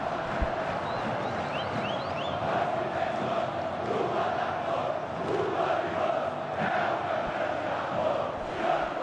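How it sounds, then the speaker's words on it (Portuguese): Botafogo football supporters cheer in a packed stadium after their team's goal in a 2012 Brasileirão match against Corinthians, a dense, steady roar of the crowd sustained throughout with a few whistles rising above it. "E a torcida do Botafogo comemora."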